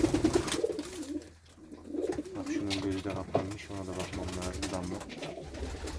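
Homing pigeons coo steadily in a loft, with low, throaty, repeated calls close by. Someone talks over them throughout.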